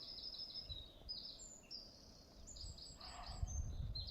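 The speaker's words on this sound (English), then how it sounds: "listen to the beautiful tweeting of the birds" Birds chirp and tweet in open countryside, several short high calls scattered over a faint outdoor background, moderately distant and alone with no talk.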